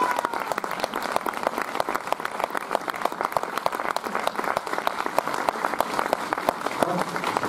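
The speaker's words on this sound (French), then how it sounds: "je crois qu'on peut l'applaudir encore très fort." An audience at a film premiere in Bordeaux applauds for "La Revanche des Crevettes Pailletées", with steady, dense clapping from many hands that carries on loud and unbroken.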